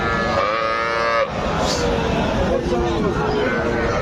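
A Sahiwal bull calf at a cattle market in Joypurhat gives a loud, close drawn-out moo that breaks off, then a second lower moo follows amid market noise.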